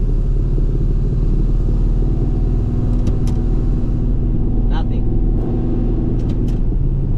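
The engine of an HSV VP Senator car runs at a steady, loud, close rumble with little change in pitch, and a few faint clicks and knocks sound over it.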